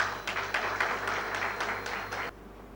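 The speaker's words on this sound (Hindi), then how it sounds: "मैं आप लोगों की तालियों के बीच स्वागत करता हूं" Audience at an institute talk on cancer risk applauding to welcome a guest, with a rhythmic patter of clapping in quick bursts that stops abruptly after a couple of seconds.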